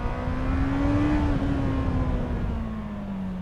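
A Honda CBR650R motorcycle pulling hard in a low gear, a loud steady engine whine climbing slowly in pitch, heard up close from the rider's position, with no talk.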